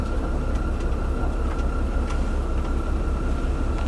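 A San Francisco cable car rolling on its rails makes a steady, loud rumbling drone with a sustained whine and occasional faint clicks, heard from on board without pause.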